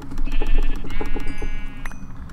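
A sheep in the video game Minecraft gives a few quick, close bleats in short succession, loud and clear against a steady background tone.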